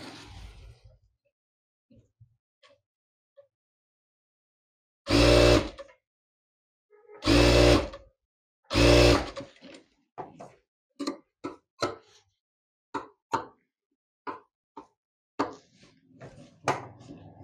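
A sewing machine stitches a strip onto the front panel of a blouse in three loud, sustained bursts, then gives a series of short, sharp ticks and taps against otherwise quiet surroundings.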